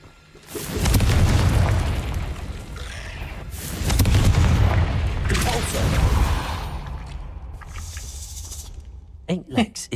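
Blasting-spell explosions in the Hogwarts Legacy video game land as two heavy, rumbling booms that each swell and then fade. A voice speaks briefly near the end amid sharp clicks.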